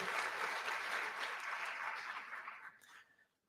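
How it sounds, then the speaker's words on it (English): Seminar audience claps together in a steady, fairly quiet burst of applause that gradually thins out and fades to near silence by the end. "Maybe a little applause for yourself."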